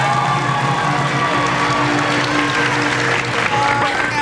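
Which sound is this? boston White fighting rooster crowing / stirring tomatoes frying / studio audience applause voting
studio audience applause voting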